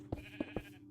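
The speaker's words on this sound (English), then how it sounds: "But the sheep in the recent versions of Minecraft are a little bit cuter." Three short bleats from sheep in the Minecraft video game, evenly spaced and fairly close over a steady low hum, with no talking.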